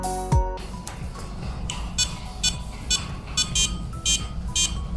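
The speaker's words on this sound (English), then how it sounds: "let's listen to the beeps in the first 4 seconds after power on" A short series of electronic power-on beeps from a bionic butterfly remote controller over a steady background hum, the tones changing pattern partway through, several high chirps spaced about half a second apart.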